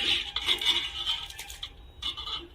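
A spoon scraping and stirring washed Gobindobhog rice in a metal pot for khichuri, a run of close, bright rasping strokes that pauses briefly and then resumes.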